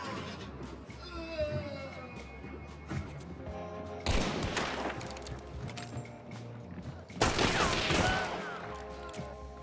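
Gunfire in the shooter game Hunt: Showdown: a scatter of sharp shots throughout, with two loud, dense volleys near the middle and end, mixed with players talking.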